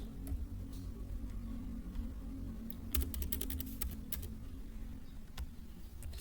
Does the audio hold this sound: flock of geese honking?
no